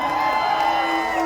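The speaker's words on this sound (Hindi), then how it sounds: "इनके नाम पे जोरदार ताली हो जाए" A stage-show audience in Dimapur lets out a brief burst of crowd noise and cheering, a dense steady roar heard close for about a second.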